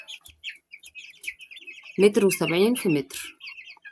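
Chickens in a cage chirping and clucking softly in the background, then someone speaks loudly over the birds.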